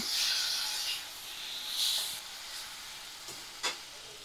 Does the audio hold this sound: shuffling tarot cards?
no